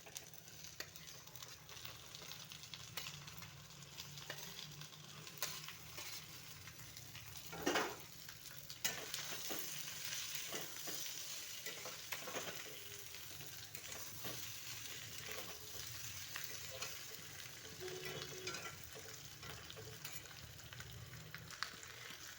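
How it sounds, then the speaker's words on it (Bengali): Potatoes and eggplant sizzle steadily as they sauté in a frying pan for a boal fish curry, a continuous close frying hiss broken by occasional scrapes and knocks of a stirring utensil. "একটু সময় কষিয়ে নিচ্ছি। আলু বেগুনগুলো এতে দিয়ে দিচ্ছি।"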